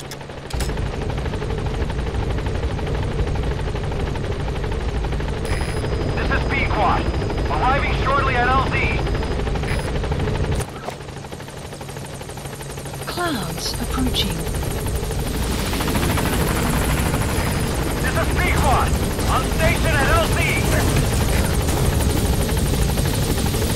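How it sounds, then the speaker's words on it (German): Helicopter arriving in the video game Metal Gear Solid V: The Phantom Pain, a steady rotor drone that persists for over twenty seconds and swells toward the end, with someone talking over it at times. "Ich höre den Heli schon."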